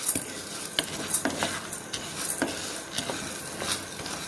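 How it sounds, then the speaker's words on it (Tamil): Urad dal and chana dal dry-roasting in a kadai, with a spoon scraping and stirring the lentils in quick, light strokes over a soft background hiss. "இப்போ வந்து இது ரெண்டுமே வந்து நல்லா செவக்கிற வரைக்கும் நம்ம வந்து ரோஸ்ட் பண்ணிக்கலாம்."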